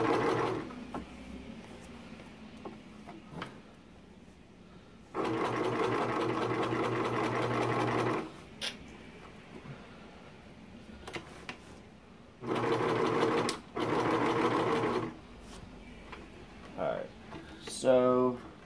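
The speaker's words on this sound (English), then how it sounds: "I'm going to come back and show you how to do the stitch." A sewing machine stitches a homemade heating pad, running in two loud steady bursts and a double burst, with quiet pauses, fabric handling and some talking between runs.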